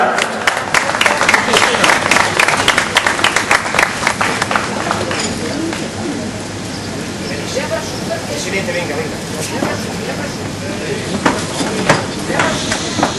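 Audience at a women's elite cycling race awards ceremony applauding the third-placed rider: steady, dense clapping that continues throughout, loudest at the start and easing slightly later, with an announcer's voice over it.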